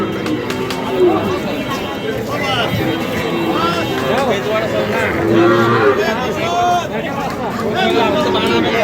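Cattle, including Sahiwal bull calves, moo repeatedly nearby at the Ambari cattle market, deep drawn-out calls rising over a busy crowd of chattering voices.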